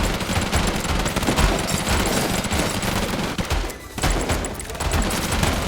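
A minigun in the game Deadly Days Roadtrip fires a dense, continuous rattling stream of shots, loud and unbroken apart from a brief dip near the end, with no talking over it.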